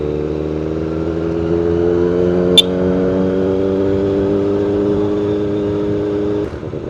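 A Kawasaki ZX-4RR motorcycle engine hums steadily while riding, a close, continuous mid-pitched drone with a slowly rising pitch, one brief click partway through, and a slight drop near the end.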